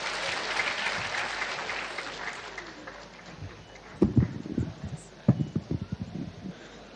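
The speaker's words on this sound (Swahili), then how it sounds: "Makofi kwake." An audience at a World AIDS Day event in Meru applauds a minister, steady clapping that fades after a few seconds and gives way to scattered louder claps and thumps.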